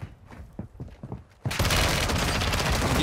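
Gunfire in the video game Warzone: a few sharp scattered shots and thuds at first, then a sudden loud burst of rapid, continuous firing that dominates the rest of the moment.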